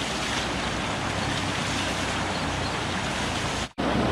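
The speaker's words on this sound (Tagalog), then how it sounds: "Dito yung pinakamalakas. Malakas yung tubig." Strong spring water gushes in a steady, loud, close rush on a farm, a continuous broadband roar with a brief dropout near the end.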